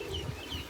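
A hen gives a brief, faint cluck from inside a coop on an organic poultry farm, a single low burst against quiet background noise.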